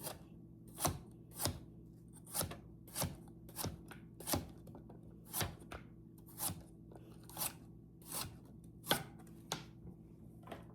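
Vegetables are sliced thin and round with a knife on a cutting board for canned chicken soup, giving about a dozen crisp, evenly spaced chops, quiet and close, with no talking.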